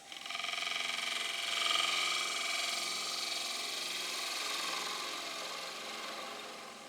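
Light cuts from a freshly sharpened gouge on a wood lathe, a steady close scraping hiss with a faint rhythmic wobble from the spinning wood, running unbroken without talk.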